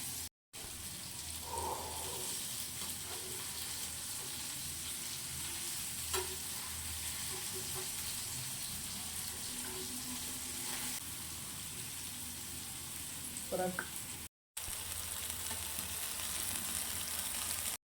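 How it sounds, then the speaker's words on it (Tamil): Sankara and mackerel fish fry in hot oil in a village-style home kitchen, giving a loud, continuous sizzle with occasional stirring clinks and brief breaks, and no one speaking. "மீன் பொரிக்க ஸ்டார்ட் பண்ணியாச்சு."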